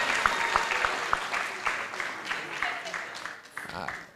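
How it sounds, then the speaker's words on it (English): Audience giving a round of applause at an economic review launch event, a moderate spread of clapping with a few sharp nearer claps, and speech breaking in near the end. "A round of applause once more."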